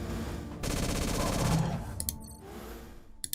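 Rapid mech gunfire aimed at dinosaurs in the video game Mech Armada, a dense burst of repeated shots lasting about a second and a half, followed by a few sharper clicking game sounds.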